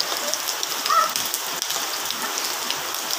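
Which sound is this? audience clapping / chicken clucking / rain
rain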